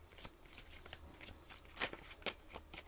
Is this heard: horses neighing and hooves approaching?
no